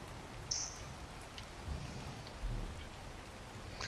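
Steady rain falling in a video game, a soft continuous hiss with faint low rumbles and a few brief brighter drops, heard alone without talk.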